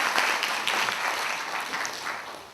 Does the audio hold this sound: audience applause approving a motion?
yes